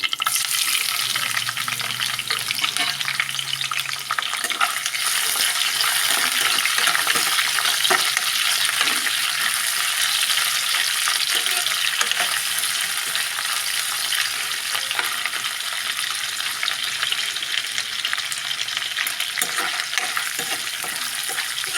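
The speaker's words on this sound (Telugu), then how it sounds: "నూనె బాగా ఏడెక్కిందండి ముందు వేయించుకోవాలి మెత్తళ్ళు" Small dried fish frying in hot oil in a pan, giving a loud, steady, dense sizzle that runs without pause throughout.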